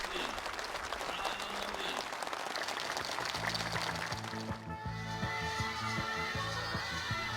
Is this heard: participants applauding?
yes